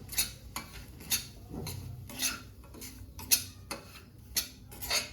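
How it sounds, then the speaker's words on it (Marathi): Semolina and dry fruits roasting in ghee in a pan, stirred with a utensil: repeated sharp metallic scrapes and taps against the pan at a steady irregular rhythm over a quiet background. "छान खमंग वास येईपर्यंत रवा हा आपण तुपामध्ये परतून घेऊया."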